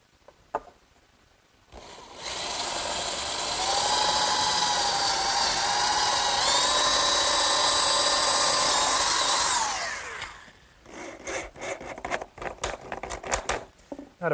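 A power drill bores holes through clamped wooden braces for a garden swing, a sustained whining run lasting several seconds with rising pitch, then quieter knocks and handling clatter afterward.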